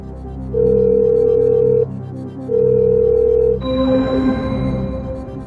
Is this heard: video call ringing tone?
yes